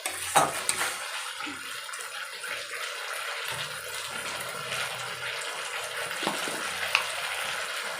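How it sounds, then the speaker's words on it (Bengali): Spice masala for a rohu fish curry with potato and cauliflower fries in a pan under a low steady sizzle, punctuated by intermittent spatula scrapes and metal clinks as it is stirred, with no talking. "মশলাটাকে ভালো করে নেড়ে চেড়ে কষিয়ে নিতে হবে।"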